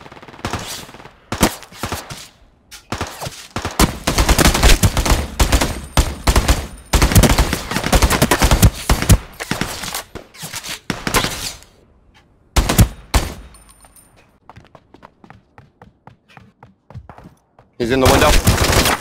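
Bursts of gunfire in the battle royale game Ring of Elysium, loud rapid volleys and scattered single shots in clusters with pauses between, along with brief voice chat.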